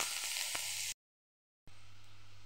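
Potato, onion and garlic fry in mustard oil with a soft, steady hiss that cuts out briefly to silence and then resumes just as faintly.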